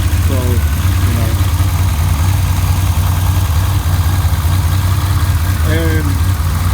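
A Buick Grand National with a GNX kit idles with a deep, steady engine rumble, loud and close, with faint voices briefly audible over it.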